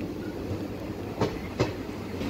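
The 05043 Ramnagar–Lucknow summer special train rolls along the tracks toward Gola Gokarnnath station, with a steady rumble inside the carriage broken by two sharp clanks from the wheels passing rail joints.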